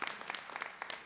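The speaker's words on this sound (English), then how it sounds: "Now that does deserve a clap." Brief, light applause from a crowd at a college commencement ceremony, a soft patter of claps lasting about a second.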